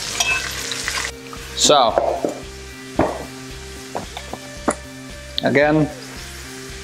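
Food sizzles steadily in an oiled skillet, the thicker side of a piece getting heat, a continuous frying hiss running underneath with someone talking over it at intervals.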